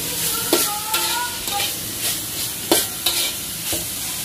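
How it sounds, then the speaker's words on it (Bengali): Vegetables stir-frying in a black wok for Thai noodles, a constant close sizzle broken by repeated sharp scraping and tossing strokes. "আমি ভেজিটেবলগুলোকে ফ্রাই করে নেব"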